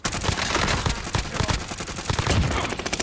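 Rapid automatic gunfire in a Call of Duty Warzone match, dense bursts of loud shots packed one after another for about three seconds, with no speech over them.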